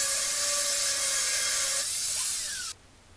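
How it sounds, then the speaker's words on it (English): An angle grinder grinds the back side of teardrop trailer metal with a loud, steady, close hiss and whine that drops in pitch as it winds down, then cuts off abruptly. "get the grinder out and do a little bit of grinding on the backside to weaken up the metal"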